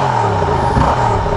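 A Yamaha XSR700 twin-cylinder motorcycle engine runs close by with a steady, smooth, subdued hum and no revving.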